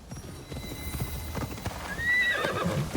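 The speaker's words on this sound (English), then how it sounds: "Easy horse." Rhythmic hoof clip-clops close by in Assassin's Creed Shadows, followed by a loud horse whinny rising toward the end, with faint game background noise.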